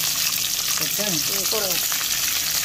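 Garlic and curry leaves sauté in a hot pan with a steady, close crackling sizzle. A voice speaks briefly over it partway through.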